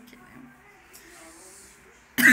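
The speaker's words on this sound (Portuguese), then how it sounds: "Uma tosse." A single short, loud cough bursts out at the very end, after quiet background game sounds in the mobile shooter Sniper 3D Assassin.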